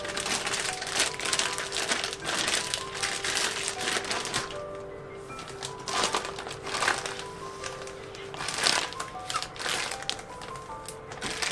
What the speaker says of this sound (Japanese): 全部袋の上から揉み混ぜて冷凍保存しておきます。